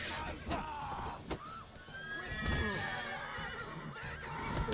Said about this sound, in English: The horses are running off.